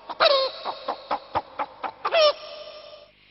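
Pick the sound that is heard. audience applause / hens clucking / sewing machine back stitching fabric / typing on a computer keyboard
hens clucking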